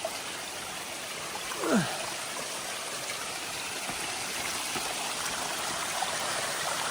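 A mountain waterfall on a trail just below the Garfield summit rushes as a constant broadband roar, close and loud, with a brief gusty swoosh early on and no speech.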